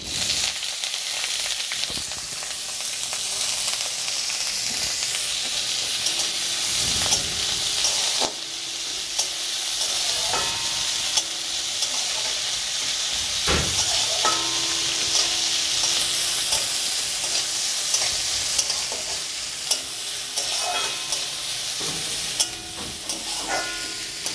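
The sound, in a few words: chopped onion frying in mustard oil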